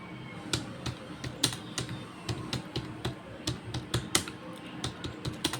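Order details typed on a computer keyboard, a quick irregular run of close, crisp key clicks at low volume with no voices.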